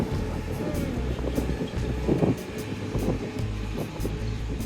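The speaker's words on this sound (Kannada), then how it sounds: "ನೋಡೋದು ಹೆಂಗೆ ಹೊಂಟೈತಿ ಟ್ರೈನ್." A train pulls out of Miaoli railway station in Taiwan, a steady low rumble and rolling clatter of cars heard from the platform with some surrounding noise.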